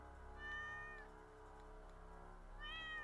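A cat meows in the video game Stray, two drawn-out, clear meows separated by a short pause, heard alone over a low steady background hum.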